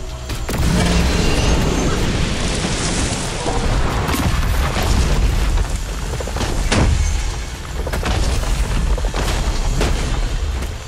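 A deep, heavy explosion rumbles through a scene from the action game Kena: Bridge of Spirits, loud and sustained with rolling booms and a few sharp cracks over about ten seconds, with no voices.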